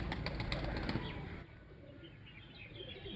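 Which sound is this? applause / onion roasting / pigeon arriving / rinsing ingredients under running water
pigeon arriving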